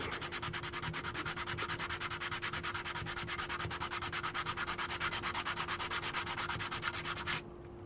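Sandpaper rubbing back and forth on the plastic casing of a BMW 7 Series E65/E66 key fob, fast even rasping strokes close up for about seven seconds, then stopping abruptly.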